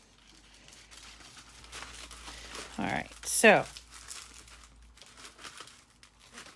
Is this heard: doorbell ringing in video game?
no